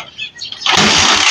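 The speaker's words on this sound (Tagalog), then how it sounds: "I-try na muna natin paki-start mo yung motor." A Honda TMX 155 motorcycle engine with a misfire is kicked or cranked and briefly catches, bursting into a loud, rough roar after a quiet moment of faint background noise.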